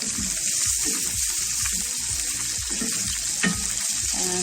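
Prawns fry in plenty of butter in a pan, a loud continuous sizzle with crackling pops and stirring scrapes throughout, no talking.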